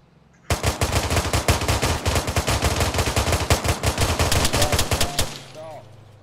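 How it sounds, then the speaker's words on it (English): Sustained automatic gunfire in the Arma 3 military video game, aimed at vehicle tires, a loud, rapid, close burst of shots lasting about five seconds before cutting off, with brief faint game sounds after. "I shot the tires as well."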